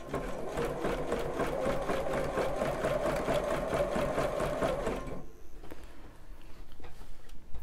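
A sewing machine stitches a bra in a fast, even run of needle strokes for about five seconds, then stops, leaving faint handling clicks.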